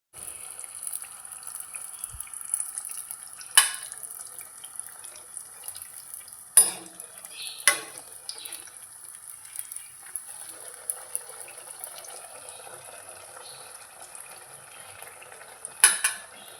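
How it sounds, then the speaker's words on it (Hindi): Sweet pua fritters fry in hot oil in a kadhai, a constant bright sizzle broken by occasional metallic clinks of a utensil scooping and straining them. "हमारा पुआ कढ़ाई में पड़ चुका है। हम छान रहे हैं"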